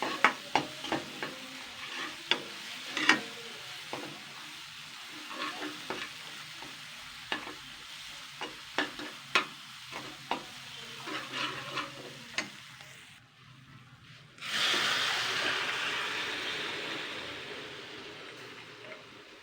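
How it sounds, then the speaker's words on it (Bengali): Boiled chickpeas frying in a pan, a soft sizzle with repeated sharp clicks of a spoon stirring, then a sudden louder hiss rising near the end. "এটা 2-3 মিনিট ভাজা হয়ে গেছে। এবার সিদ্ধ করে রাখা ছোলা বুটটা আমি দিয়ে দেবো।"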